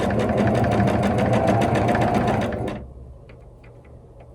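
A sewing machine stitching a quilt block runs at a fast, steady rhythmic whir up close for a few seconds, then stops abruptly, leaving near silence with faint handling sounds.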